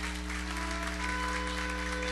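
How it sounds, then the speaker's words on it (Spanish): A church congregation at a worship conference claps steadily as one continuous wash of applause, fairly distant and soft, over a low electrical hum from the sound system. "Démosle un fuerte aplauso al Señor."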